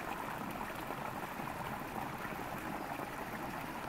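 Stream water flowing steadily through woodland, a continuous broadband rush and gurgle that stays even and fairly close throughout, with no voices.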